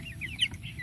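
Broiler chickens about 45 days old cluck briefly at close range on a farm in the Philippines.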